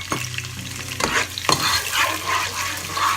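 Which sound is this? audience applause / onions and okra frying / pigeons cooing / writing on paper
onions and okra frying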